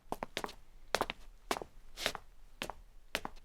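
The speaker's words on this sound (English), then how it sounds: "these footsteps here aren't completely lining up, which will sound more like two people walking together" Edited footsteps of two people walking together on a hard surface, the slightly offset steps landing as clustered pairs of close, crisp impacts in an uneven rhythm.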